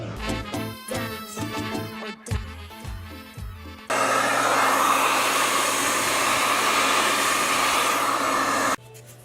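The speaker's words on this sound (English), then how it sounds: "I'm going to sit here and hit this with a blow dryer for just a few minutes" A hair dryer roars on steadily at close range, drying clumpy oil-based paint, for several seconds after some brief musical tones, then cuts off abruptly near the end.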